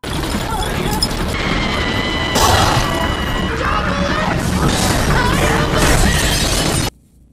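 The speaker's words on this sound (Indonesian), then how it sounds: "Lalu Violet mendorong kaca itu dan menabrak Caroline." Glass mirror crashing and shattering in a dramatic film scene, a loud, dense burst of breaking and smashing with crashing debris continuing for several seconds under the score before cutting off abruptly.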